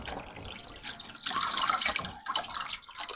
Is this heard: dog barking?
no